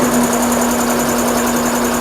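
Steady hum of an EMAX 7.5 HP, 120-gallon two-stage, three-phase industrial V4 air compressor with Silent Air, heard from about two feet away; an even, unbroken mechanical drone with a strong low tone and no talking.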